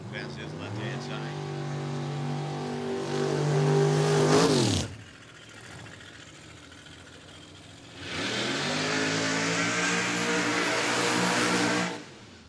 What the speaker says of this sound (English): got a little tweaking action sounding down there like a 1980 Pro Stock car